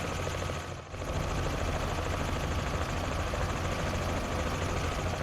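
Helicopter in Microsoft Flight Simulator 2024, a steady loud rotor and engine drone with a low pulsing thrum that dips briefly near the start, then holds constant with no talk.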